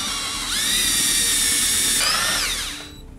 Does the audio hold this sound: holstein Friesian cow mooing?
no